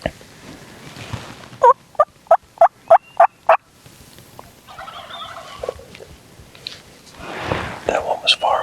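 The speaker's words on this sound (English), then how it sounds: "but he definitely gobbled back." A Gould's turkey gobbling in the Mexican wild, a distant rattling burst of about six quick pulses, followed by faint whispering and rustling.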